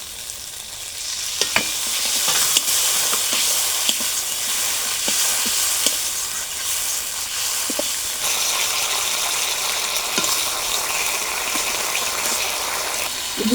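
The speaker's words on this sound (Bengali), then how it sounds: "সামান্য একটু জল দিয়ে মশলাটা কষিয়ে নেব" Spice paste for a boal fish oil-and-chili curry sautés with a little water in a pan, a steady, close, loud sizzle broken by scraping stirs and occasional clicks throughout.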